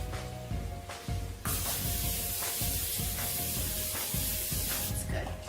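Non-stick cooking spray hisses in several short bursts onto a bundt pan, loud and close, with steady spray noise between the bursts.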